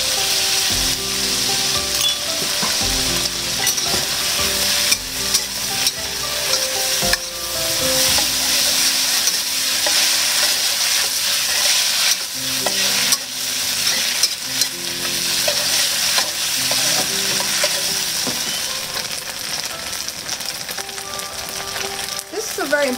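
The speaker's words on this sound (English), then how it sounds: "This is a very important part, to let the noodle cook and burn, caramelize, I guess." Noodles frying and caramelizing in a pan with a sauce of fish sauce, soy sauce, ketchup, mayonnaise and sweet soy sauce, a steady loud sizzle with stirring and scraping under background music throughout.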